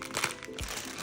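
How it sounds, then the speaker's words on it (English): A plastic bag of large marshmallows is crinkled open in a kitchen while making Easter resurrection rolls, giving one brief, quiet rustle up close. "we're gonna open our big puffy marshmallows"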